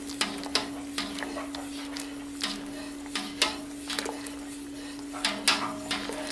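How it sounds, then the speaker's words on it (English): A spoon stirring malt into liquid for home-brewed beer, giving repeated soft scraping knocks in an irregular rhythm over a steady hum, close and moderately loud. "we have our sanitized spoon, and now just add the malt. Just keep stirring it in."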